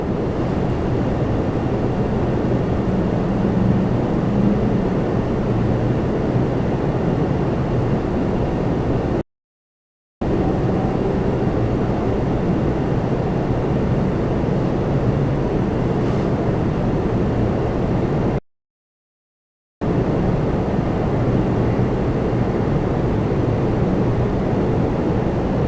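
Republic Airways Embraer 175 jet arriving at Toronto Pearson, a steady broadband engine roar holding near and loud throughout, broken by two short gaps of silence.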